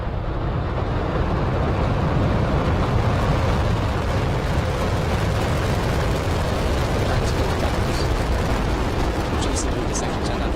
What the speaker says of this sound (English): Liftoff of the Falcon